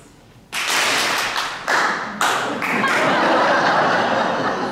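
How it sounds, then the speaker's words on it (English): A church audience claps together in one loud burst, followed by a few more scattered bursts and trailing claps that ring in the reverberant space, mixed with some chuckling and laughter. "see if you can clap together once"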